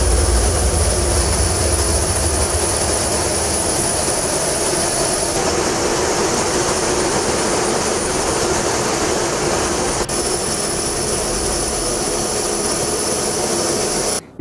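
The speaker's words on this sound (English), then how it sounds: "U.S. Air Force B-1 bombers out of Guam, as well as fighter jets out of Okinawa, Japan, flying over international waters." U.S. Air Force B-1B Lancer bombers and fighter jets roar overhead in a loud, continuous jet-engine rumble with a broad hiss, steady for the whole stretch.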